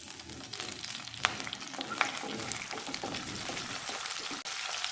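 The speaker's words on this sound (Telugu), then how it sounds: "ఆయిల్ వేడైపోయింది. సో ఇప్పుడు మనం బిర్యానీ ఆకు అండ్ లవంగాలు, నెక్స్ట్ పచ్చిమిర్చి, కరివేపాకు" Bay leaf, cloves, green chilli and curry leaves frying in hot oil for tomato rice, a continuous close crackling sizzle with a couple of sharp pops and light stirring.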